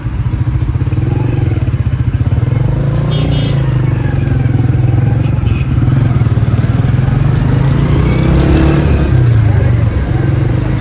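A motorcycle rumbles steadily and loudly through busy city traffic near Mall Plaza and the GPO in Saddar, Pakistan, in cold weather, with passing vehicles, clatter and occasional talk over the engine.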